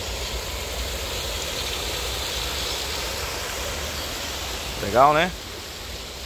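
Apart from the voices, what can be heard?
running water of a stream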